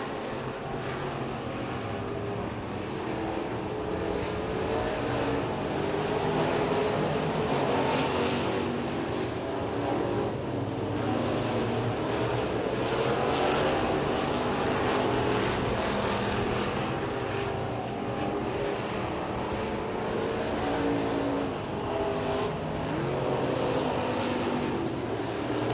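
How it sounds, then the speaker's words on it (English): Modified street race cars circle Duck River Raceway in a heat race, a continuous loud engine roar with rising and falling passes that blend into a steady crowded drone throughout. "Here comes the 89 car, Mark Jones."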